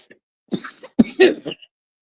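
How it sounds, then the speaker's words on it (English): A single sharp cough rings out close by, followed by a short throat-clearing rasp and a few bursts of voiced effort, then quiet. "excuse me, I had to cough."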